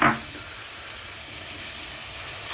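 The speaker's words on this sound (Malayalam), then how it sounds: "അപ്പോൾ നമ്മളെ വെളിച്ചെണ്ണ ഇവിടെ ചൂടായി വന്നിട്ടുണ്ട്. അപ്പോൾ നമ്മൾ ഈ കട്ട് ചെയ്ത് വെച്ച് വെജിറ്റബിൾസ് ഇതിനകത്തേക്ക് ഇടുന്നു." Chopped onion, ginger, green chilli and garlic tipped into hot coconut oil, a loud burst of sizzle at the start that settles into a steady, close hiss of frying, swelling slightly again at the end.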